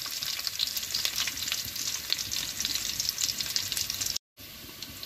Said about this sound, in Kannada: ಈಗ ಕರಿಬೇವು ಎರಡನ್ನು ಹಾಕ್ತಾ ಇದೆ.